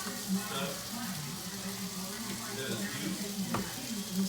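Pancakes cook on a hot griddle for breakfast, a steady soft sizzle with light scraping, a voice murmuring faintly in the background.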